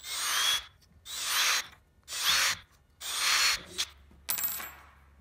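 A drill with a 4.2 mm bit opens holes in a series of five short, close bursts of high whirring and grinding, each under a second long and separated by brief pauses.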